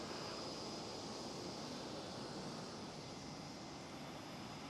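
Distant airliner engine roar at Schiphol airport, a steady broad rumbling wash with no breaks, faint and even throughout, without talk.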